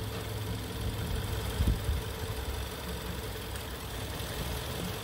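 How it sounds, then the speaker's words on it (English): An engine idles with a misfire on cylinder three after its ignition coil is unplugged, a rough, uneven rumble with a brief heavier stumble partway through, close and steady. "I'll simulate a engine misfire"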